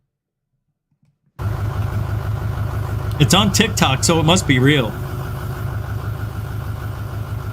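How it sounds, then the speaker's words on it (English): A truck engine idles steadily and fairly close after about a second of silence. Someone talks briefly over the low, even rumble. "You could hear the engine running of the UFO."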